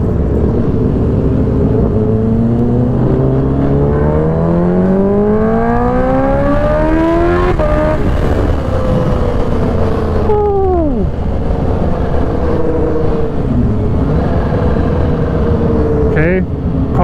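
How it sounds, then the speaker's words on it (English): A car passes close by on the road, its engine pitch rising and then swooping down as it goes, heard over steady wind noise and loud nearby motorcycle engine drone. "Car's gone."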